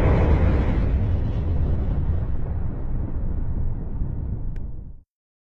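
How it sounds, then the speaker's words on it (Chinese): A car explodes at a petrol station while being refuelled: a loud, sudden low boom that rolls into a sustained roaring rumble for about five seconds, then cuts off abruptly. "呢一下爆炸威力大得惊人"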